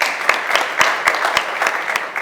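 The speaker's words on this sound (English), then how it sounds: "Please, let's give Niger a round of applause." A short round of applause from an audience at an agriculture talk event: a moderate group clapping, with several distinct louder claps standing out in a fairly even rhythm over about two seconds.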